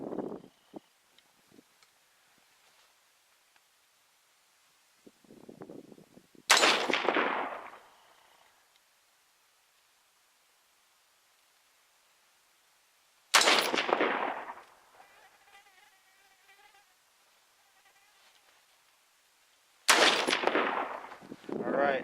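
Rifle shots from a .223 firing full metal jacket rounds, heard as a few loud, sharp reports spaced several seconds apart, each trailing off into a long rolling echo across open ground.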